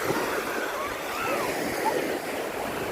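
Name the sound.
strong current of river water flowing over rocks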